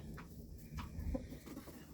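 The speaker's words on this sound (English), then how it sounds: "All the hens." Hens cluck softly in a coop during a summer storm, several short, faint calls spread over a couple of seconds against quiet background noise.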